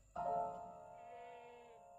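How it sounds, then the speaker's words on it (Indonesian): Goats bleating inside a livestock pen, one sudden loud wavering bleat that trails off into a sustained, quieter nasal cry, heard alone and close. "Pak, kambingnya berisik, Pak."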